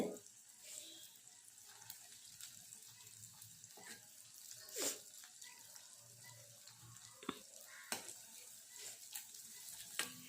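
Taro (chembu) pieces frying in hot oil, a steady soft sizzle with occasional sharp pops and crackles near the pan, no talking over it.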